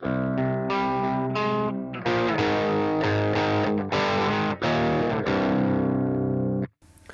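Electric guitar chords and riffs through a lightly driven amp, a warm, slightly crunchy tone played loud and close before cutting off abruptly.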